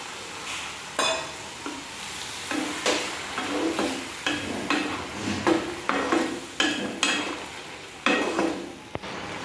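Plum (kul) chutney is stirred in a pan, a spoon scraping and clacking against the metal in a steady, uneven rhythm of close, fairly loud strokes over a soft sizzle, with no talking.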